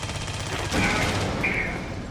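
Rapid submachine gun bursts in the sci-fi shooter Aliens: Colonial Marines, a dense, continuous rattle of fire that swells slightly louder midway and runs unbroken across the whole stretch.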